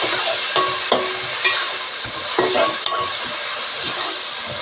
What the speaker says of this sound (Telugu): ఇది కొంచెం పచ్చివాసన పోయే వరకు ఫ్రై చేసుకోవాలి